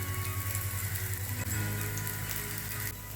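Mutter nuggets shallow-frying in a pan on a medium gas flame until crisp, giving a soft, even sizzle that crackles quietly and steadily throughout, with no voices.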